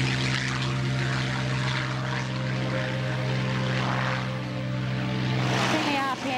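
A Supermarine Spitfire's propeller engine roars at full power during takeoff, a loud, steady droning throb held for several seconds, with a voice briefly audible near the end.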